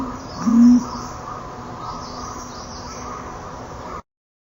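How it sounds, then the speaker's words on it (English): A pigeon coos once, a short soft low call standing out over a steady background of other birds chirping and a continuous ambient hiss that cuts off abruptly near the end. "But listen to the cooing of this pigeon."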